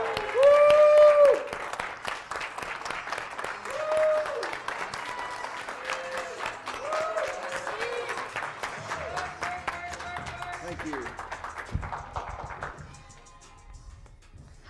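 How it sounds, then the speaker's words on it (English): An audience claps for a speaker introduced at a social media talk, with a whoop at the start, continuous applause and scattered shouts under an announcer's voice, fading out near the end. "let's give a wonderful round of applause to Monique Johnson."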